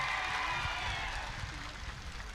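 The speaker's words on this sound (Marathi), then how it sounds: "त्या माणसासाठी एक टाळ्या सगळ्यांसाठी टाळ्या वाजव" A crowd at a political protest rally in Beed applauds in a dense, continuous wash of clapping, with a voice talking faintly underneath.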